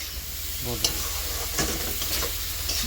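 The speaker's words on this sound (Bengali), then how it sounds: "এখানে সুন্দর করে কষাতে জিরের গুঁড়ো দিলাম" Cumin powder sizzles in a pan with turmeric for a spicy small-fish curry, with a steady close crackle and scraping stirring strokes.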